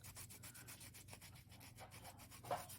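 Polymer clay being sanded with 180 grit sandpaper, a faint, rapid back-and-forth rubbing in quick regular strokes, close and quiet with no talk.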